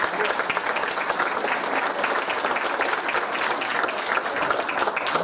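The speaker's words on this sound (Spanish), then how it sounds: "curador de esta exposición, Alejandro Rosas, para quien pido un fuerte aplauso." A lecture audience at a talk on the Mexican Revolution gives a dense, sustained round of applause for the historian and curator, a steady wash of many hands clapping throughout.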